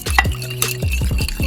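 Bourbon sauce mixture being stirred in a pan, a quick run of close scraping and clinking strokes from a utensil against the pan, brief and fairly loud.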